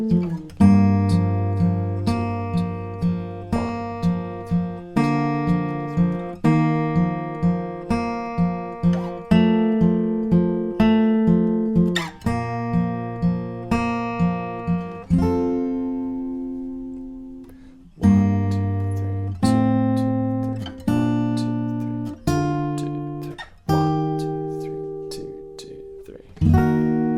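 Fingerpicked acoustic guitar plays the chorus of a song in a steady rolling triple-feel pattern of plucked notes and chords, close and clear with no talking.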